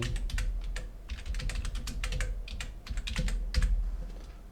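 Fingers type quickly on a computer keyboard, and Enter is pressed. The clicking clatter is close, steady and continuous, with no voices.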